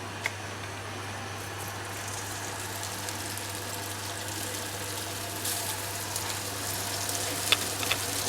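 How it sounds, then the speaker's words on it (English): Garlic and speck sizzle steadily in a hot pan, a continuous crackling hiss with a low hum underneath and a few sharper pops near the end. "As you can hear, just a nice sizzle."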